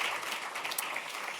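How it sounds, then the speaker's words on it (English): An audience at a policy-day plenary session of an inequality, work and nature conference applauds the Deputy Minister in the Presidency, a brief, steady wash of clapping from a crowd with no talk over it. "Another round of applause, please, for the Deputy Minister in the Presidency."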